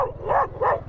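A dog barks nearby, three quick, loud woofs in rapid succession over a low steady hum.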